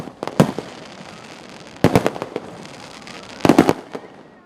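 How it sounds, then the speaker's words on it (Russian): Festive fireworks display at the Derbent 2000th anniversary celebration: three clusters of loud, crackling bursts, each a rapid string of bangs, separated by quieter stretches of distant crackle. "Закончились торжества в Дербенте праздничным фейерверком."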